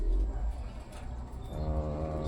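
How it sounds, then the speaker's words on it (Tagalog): Low, murmuring racing pigeon coos roll along over a steady background hum in Pagbilao, Quezon, with a brief burst of higher chatter partway through. "kumpleto na yung mga kalapati natin"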